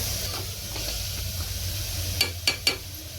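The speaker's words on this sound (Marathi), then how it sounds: "थोडं लाल तिखट, चांगलं मिक्स करून घ्या।" Red chili powder being stirred into a curry of ridge gourd in a pan, giving a steady close frying sizzle with a few sharp spoon scrapes near the end.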